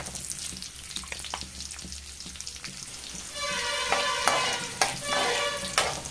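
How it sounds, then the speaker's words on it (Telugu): Spices and a dried red chili are tempered in hot oil for garlic chili rice, giving a soft crackle that breaks into steady, close sizzling with spattering pops and occasional stirring. "ఈ పోపు దినుసులు కూడా కొంచెం ఫ్రై అయ్యేటప్పుడు ఫ్రై అయ్యి ఉండిద్దాం"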